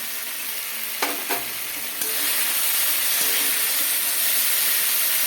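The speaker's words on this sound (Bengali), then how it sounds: "জিরে গুঁড়ো, ধনে গুঁড়ো দিয়ে মশলাটাকে নাড়িয়ে ভালো করে কষিয়ে নেবো" Masala of ground cumin and coriander frying in a pan, a couple of sharp utensil knocks and then a steady loud sizzle as the spices are stirred, no talking.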